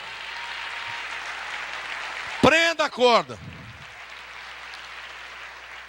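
A church congregation applauds steadily through a sermon, a diffuse wash of clapping that stays under a preacher's loud, emphatic speech.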